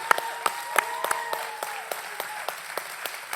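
A crowd claps steadily, with sharp individual claps standing out over a dense wash of applause at moderate distance.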